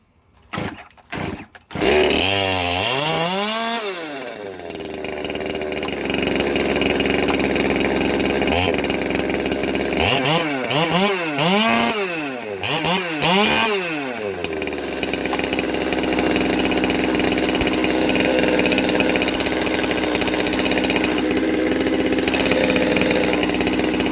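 A Farmertec MS200T kit chainsaw engine sputters through a few brief start attempts, then catches and runs continuously at a high idle, a loud, close buzzing drone with a few revving swells along the way.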